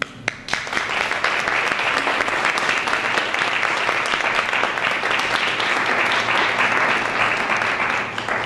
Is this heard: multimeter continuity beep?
no